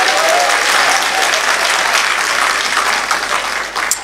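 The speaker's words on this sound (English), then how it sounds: "Let's acknowledge him with a round of applause." An audience at a public lecture on governance breaks into loud, dense applause, a continuous close wash of many hands clapping that holds steady before easing slightly near the end.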